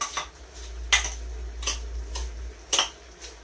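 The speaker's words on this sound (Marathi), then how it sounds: "आणि आता हे सगळं मिक्स करून घ्यायचं आहे आपल्याला व्यवस्थित" Dangar being mixed with raw oil in a bowl by hand or spoon: soft scraping and four distinct clinks of utensil on bowl at uneven intervals over a low hum, no voices.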